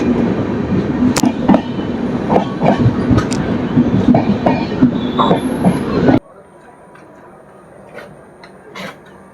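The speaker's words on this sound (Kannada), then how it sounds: "Matsyagandha express crossing Matsyagandha express" Matsyagandha Express, running Mumbai LTT to Mangaluru Central, roars past at a crossing with loud rumbling, clattering wheels and squeals, then cuts off abruptly into a quiet lull with a few faint knocks.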